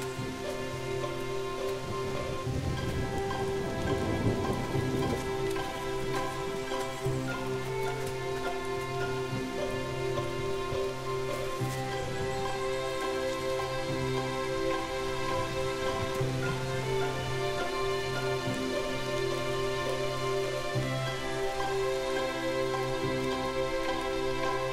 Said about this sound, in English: the rain falls to the ground again